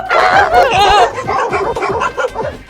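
A shepherd dog barks in a quick run of yips and bow-wows, loud and close, with whiny tonal edges between the barks.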